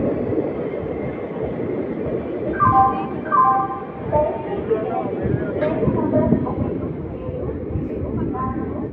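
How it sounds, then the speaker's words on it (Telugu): Simhadri Express pulling out of Samalkot Junction, heard from inside coach D2: a steady low rumble of the running train with rattling and clicking over the rails, voices talking over it throughout. "మన ట్రైన్ అయితే సామల్కోట జంక్షన్ నుండి అయితే బయలుదేరిపోయింది."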